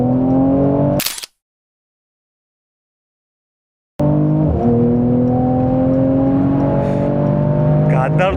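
A Mercedes-AMG C43 accelerates hard on the autobahn, its engine note loud and climbing. The sound cuts to silence for a few seconds, then returns with the revs pulling upward again through a gear change.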